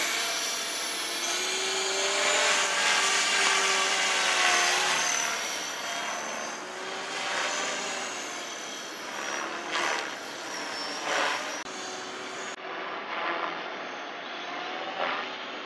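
A radio-controlled model helicopter flies outdoors, a continuous high-pitched whining rotor and motor buzz that rises and falls as it maneuvers at moderate distance.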